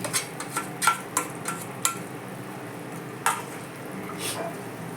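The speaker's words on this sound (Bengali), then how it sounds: "এবার আমি এই ভাঙা করম চাগুলো আমি এবার কড়াইতে দিয়ে দিচ্ছি" Broken karamcha fruit is added to a wok for a sweet-and-sour chutney, giving a series of sharp clinks and stirring scrapes over a soft sizzle, busy at first and then easing.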